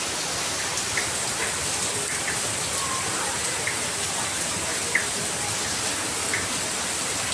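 Heavy rain with big drops pours down in a dense, steady roar, with occasional louder individual drops and splashes standing out against the constant wash.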